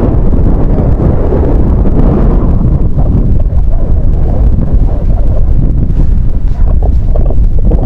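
Strong southwest monsoon wind during Typhoon Betty on the coast at Baler, Aurora, roaring continuously and heavily buffeting the microphone, with deep rumbling gusts and no voices.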